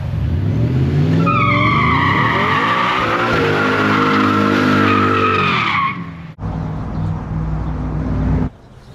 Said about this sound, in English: We are going to sign off by doing a burnout here on the burnout pad.